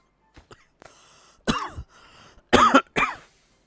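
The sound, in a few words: cough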